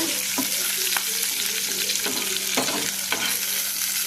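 Cumin and garlic tempering frying in hot oil, a steady broadband sizzle with several sharp scraping stirs of a spoon in the pan, no talking.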